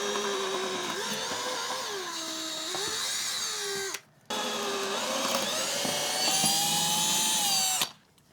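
A power drill whines steadily during renovation of a 40-year-old RV, two long runs with rising and falling motor pitch, each stopping abruptly.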